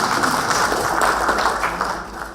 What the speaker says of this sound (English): Can you have a clap?